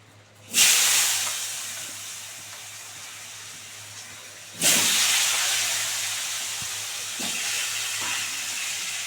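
Potatoes dropped into hot oil with cumin, bay leaf and hing burst into a loud hissing sizzle, then settle to a steady fry; a second addition brings another sharp surge of sizzling, with no talk.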